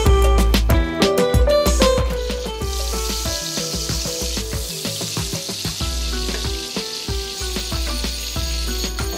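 Whole cloves, peppercorns, cardamom and a cinnamon piece hit hot oil and butter in a kadhai, giving a loud, crackling sizzle that is strongest at first and then settles into a steady hiss, with no speech.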